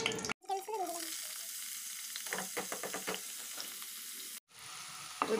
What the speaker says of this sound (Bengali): কড়াইতে তেল আর ঘি দিয়ে দিয়েছি,